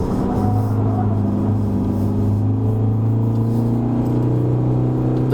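An Isuzu D-Max X-Terrain pickup's engine from 2021 drones loudly and steadily as it pulls up through the gears on a winding mountain road in Genting, its pitch climbing slowly, with no talking.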